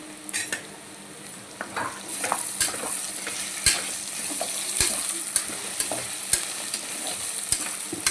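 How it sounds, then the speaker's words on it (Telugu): Brinjal pieces go into a pan of vegetable pulao, followed by sharp spoon scrapes and taps against the pan over a low sizzle, the clinks spaced irregularly and fairly close. "ఇందులో వంకాయ ముక్కలు వేయడం మర్చిపోయా అండి అందుకని ఇప్పుడు వేస్తున్నా"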